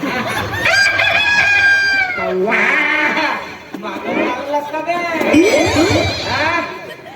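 Rooster crowing rings out repeatedly, loud and near, with clucking between calls during a comedy stage show, and voices talk over and around it.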